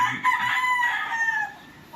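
A gamecock crows once at a gamefarm breeding area in Camalig, Albay, a drawn-out, fairly close call lasting about a second and a half.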